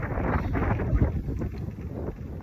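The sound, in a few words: strong wind blowing outdoors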